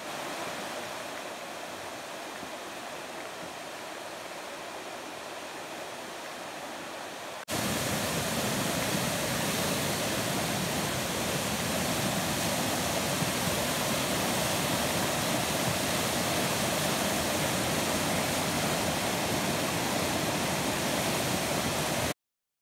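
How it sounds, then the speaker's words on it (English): Floodwater roars down New Cut Road in Ellicott City, Maryland: a steady, dense rushing wash like a waterfall that jumps sharply louder partway through and stays at full force to the end, with no voices. "Massive amounts of water running down New Cut Road."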